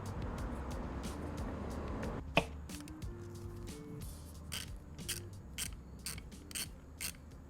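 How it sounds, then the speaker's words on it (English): A ratchet loosens the rear brake bolt on a Ducati Monster motorcycle, with quick close clicking pawl bursts at an irregular rhythm over a low hum after an initial metallic clack. "You're gonna use your ratchet here. I'm gonna get down there. Just kind of loosen it up."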